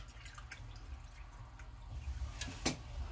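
Vinegar trickles into a pot holding leftover frying oil for escovitch fish sauce, a quiet soft pour with small drips and one sharper splash near the end.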